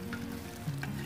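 Tofu frying in hot oil while being turned with a spatula, a steady close sizzle running throughout with faint scraping of the utensil, no voices.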